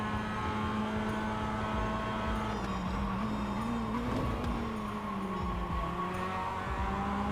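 A race car in the iRacing sim game drones past with a steady, loud engine note that rises and falls slightly as it holds the inside line, continuous throughout with no talking.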